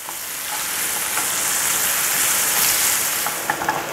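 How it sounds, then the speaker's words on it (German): Bacon and onions fry steadily in a pan, a dense, close sizzle that holds level throughout with a few faint stirring clicks near the end. "Unser Speck und unsere Zwiebeln sind jetzt wunderbar angebraten."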